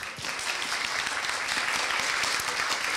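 Sustained audience applause at a university dialogue lecture on Eastern philosophy, a dense, steady wash of many hands clapping throughout, fairly loud and close.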